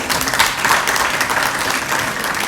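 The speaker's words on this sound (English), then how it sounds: "Please welcome him with a huge round of applause" A crowd at the InnoHEALTH 2024 innovator pitches and award session welcomes a retired naval commander on the jury with loud, dense, continuous applause that swells and holds steady.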